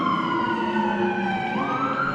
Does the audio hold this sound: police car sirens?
yes